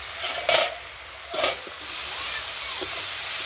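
Thankuni greens curry is stirred in a pan, giving a few soft scraping strokes over a quiet, continuous low sizzle.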